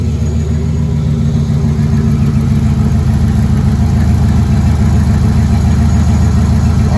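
A car engine fitted with an MSD Pro Billet distributor and Blaster 3 coil idles steadily and loudly up close, a continuous low rumble running without pauses or revs, with no voices over it.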